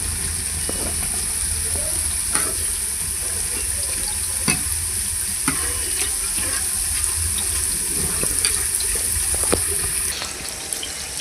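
Puris fry in hot oil with a steady soft sizzle, broken by occasional sharp clicks and taps as each one is turned over in the pan.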